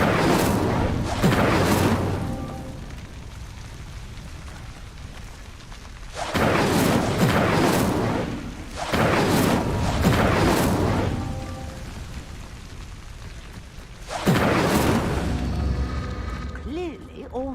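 Incendio fire spells in Hogwarts Legacy setting stone pyres alight, heard as three big whooshing bursts of flame that roar up and fade, spaced several seconds apart, with a short magical shimmer trailing the last one.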